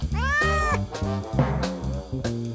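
A pet cat meows loudly and close, several drawn-out cries in quick succession, with no talking.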